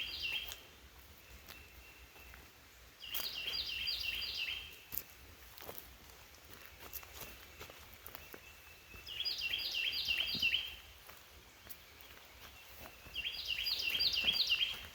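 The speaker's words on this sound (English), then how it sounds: "You definitely hear the birds chirping." Outdoors along a backyard hill path, a bird sings short, bright chirping bursts four times at regular intervals, clear and nearby, over soft walking sounds and a low ambient hush.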